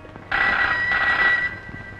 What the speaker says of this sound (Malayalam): ആരോ വിളിക്കുന്നു. വിളിച്ചോട്ടെ. ഫോൺ എടുക്കുന്നേ.